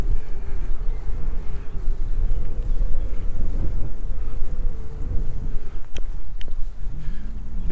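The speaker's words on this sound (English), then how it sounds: "it's quite a headwind coming up this valley" A strong headwind funnels up a valley, roaring as a steady, loud rumble of wind against the microphone, with a few faint clicks near the end.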